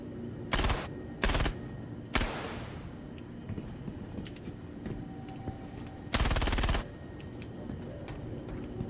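Enemy gunfire in the video game Star Citizen, several short loud bursts of automatic fire spaced seconds apart over a low ambient hum and faint ticking.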